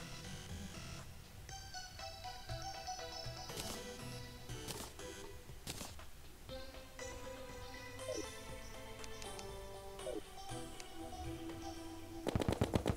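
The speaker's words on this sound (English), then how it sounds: "Looks like a Gatling gun now." Gatling gun in Terraria firing in rapid, sustained bursts over game music and effects, ending with a loud rattling volley.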